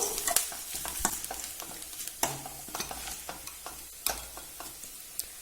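Onion and moong dal sauté in a pan for a snake gourd poriyal, with a soft sizzle under repeated sharp spatula scrapes and taps at an uneven rhythm, close and fairly quiet.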